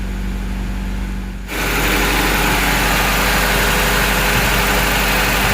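A Toyota Great Corolla engine idles close by with a loud, steady hum. About a second and a half in, the radiator fan kicks on and adds a constant rushing whir over the engine. No one speaks.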